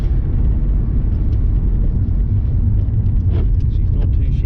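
A Holden Commodore with a Gilmore belt drive fitted drives along, its engine a loud, steady low rumble and drone that fills the whole stretch without a break, heard from inside the car.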